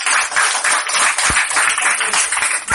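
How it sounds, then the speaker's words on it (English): A class of fifth-grade children claps in a room, a dense, steady burst of close hand claps lasting a few seconds. "Clap your hands."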